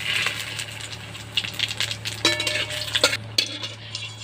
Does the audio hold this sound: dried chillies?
yes